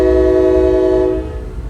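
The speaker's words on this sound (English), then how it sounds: "every time a train goes by" Loud, sustained horn blast from a Norfolk Southern train passing beneath a bridge, holding steady and then cutting off, leaving the rumble of the passing rail cars.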